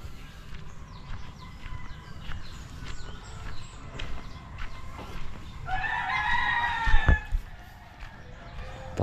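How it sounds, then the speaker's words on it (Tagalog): A jungle fowl rooster gives one loud, close crow midway, rising then trailing off, with softer clucks and rustling farmyard sounds around it. "alabuyong manok"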